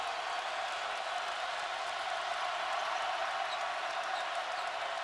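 A college basketball arena crowd from a Missouri Tigers vs Kansas Jayhawks game roars in a steady, dense wash of cheering that holds without letup throughout.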